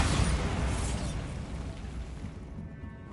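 A Bombarda blast spell from the video game Hogwarts Legacy bursts with a loud, close boom right at the start, then a rumbling roar that slowly fades away.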